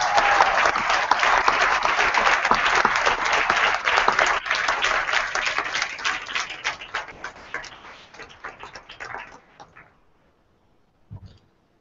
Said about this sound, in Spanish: un aplauso para todos vosotros